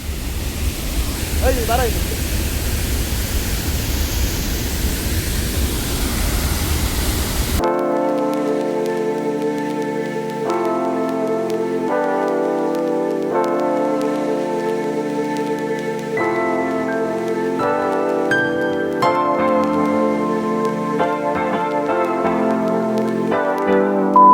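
Abbi Falls waterfall gives off a steady, loud broadband roar for the first several seconds before music abruptly replaces it for the rest of the clip.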